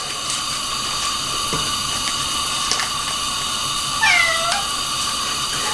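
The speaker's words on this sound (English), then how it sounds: "My cat Lina wants food." A cat meows for food in a kitchen, giving a couple of short, clear mewing calls over a steady background hum.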